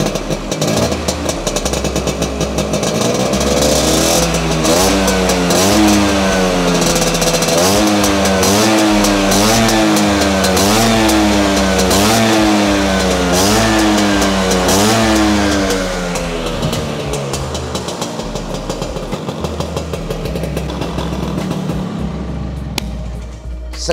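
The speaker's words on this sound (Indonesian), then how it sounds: "Ini portingan harian Vespa dan sudah menggunakan knalpot racing" A two-stroke Vespa PX Classic scooter engine with a racing exhaust revs hard and loud up close, its exhaust rising and falling in pitch through repeated throttle bursts.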